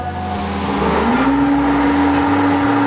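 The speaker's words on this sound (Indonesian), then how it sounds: "Kalian bisa dengar sendiri, ini tuh mesinnya udah menyala." A helmet and clothes dryer machine switches on, its motor spinning up with a rising tone into a steady, loud whirring hum that continues unbroken.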